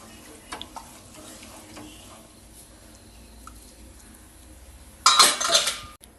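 A pot of ghee rice with lemon juice is covered with its lid. A few light metallic clinks are followed by a louder, brief clatter near the end, close by, with no talking.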